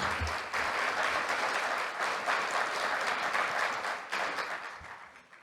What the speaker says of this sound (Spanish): les damos un aplauso para calentarlos